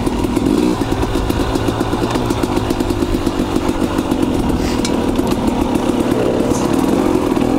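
KTM 250 XC two-stroke dirt bikes ride off across the desert, their engines droning loud and steady close by, with a rapid revving buzz that holds throughout.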